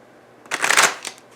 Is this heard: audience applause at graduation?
no